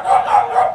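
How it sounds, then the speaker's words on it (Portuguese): A dog barks three times in quick succession, fairly close and loud, with no other sounds around it. "É que o cachorro não tá ajudando"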